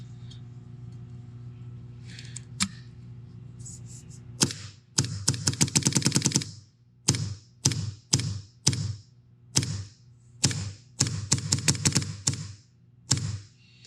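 Paintball marker fitted with a DLX Encore bolt firing indoors: sharp close shots, first a few single cracks, then rapid strings of bursts separated by short pauses.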